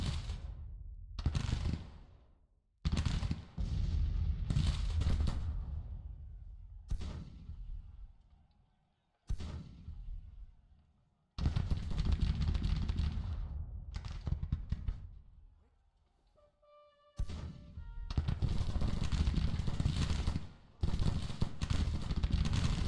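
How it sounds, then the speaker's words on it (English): Artillery fire in the Civil War strategy game Grand Tactician booms in a series of heavy, broadband blasts separated by short silences, each burst decaying quickly, with a faint tonal sound between volleys. "That's the artillery."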